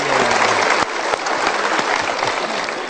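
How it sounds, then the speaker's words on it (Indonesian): A seated audience at a motivational talk applauds, a dense, loud, continuous clapping wash with a few sharper individual claps, no speech over it. "Kita berikan tepuk tangan."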